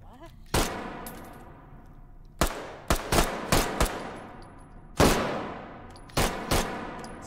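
Gunfire in the virtual reality shooter H3VR, a series of loud, close single shots at irregular intervals with sharp attacks and short ringing decay, some in quick pairs.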